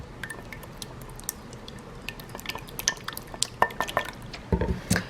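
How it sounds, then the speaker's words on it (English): An egg is whisked in a bowl, with light, rapid clinks and taps of the whisk against the bowl, close by and growing busier toward the end, with no talking. "I'm going to go ahead and whisk this egg up."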